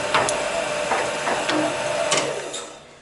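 A CNC milling machine runs on automatic with its gear reducer turning, giving a steady mechanical whir with regular light clicks and ticks at close range before fading slightly at the end.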